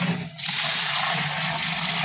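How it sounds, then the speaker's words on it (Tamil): Water poured into a large biryani cooking pot for a 10 kg mutton biryani, a steady loud rushing gush that starts abruptly after a brief pause and continues without letup. "இப்போ நம்ம உலக்கி தண்ணி ஊற்றுங்க."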